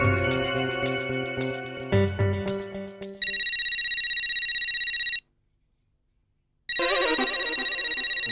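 A phone ringtone plays: first a melodic chime pattern, then a bright electronic trill that stops, pauses in silence, and starts ringing again.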